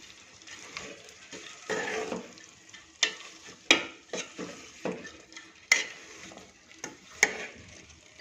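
Spoon scraping and clinking against a pan while valor bean and eggplant curry is stirred, in irregular bursts of close, moderately loud scrapes with a faint sizzle underneath.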